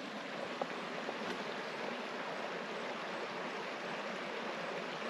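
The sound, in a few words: creek water flowing at campground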